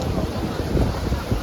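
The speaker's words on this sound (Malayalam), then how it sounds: "കാറ്റ് മഴ." Strong wind and heavy rain in Macau, a dense continuous roar of gusts buffeting the microphone with rushing rain, loud and close with no break.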